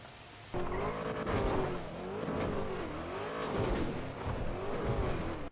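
A car in the video game GTA drives hard, its engine rising and falling in pitch as it revs repeatedly, with tire squeal and a loud, close, continuous roar.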